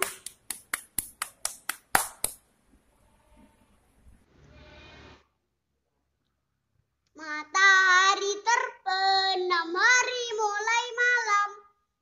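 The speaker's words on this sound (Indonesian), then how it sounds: "kita tepuk tangan" Children clapping along to a kindergarten song: about a dozen sharp, evenly spaced claps at the start, then quiet, followed by children's voices singing.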